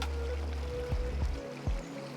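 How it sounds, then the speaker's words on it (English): Steady trickling river in the game King under the Mountain, a low continuous flowing wash with a few soft gurgling splashes near the end, no one talking. "that's the river that you can hear"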